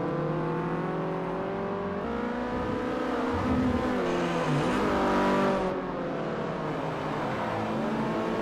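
Mazda race cars in Forza Motorsport 4 roar through a chicane, engines rising and falling with gear changes as several cars pass close together, loud and continuous with no talk.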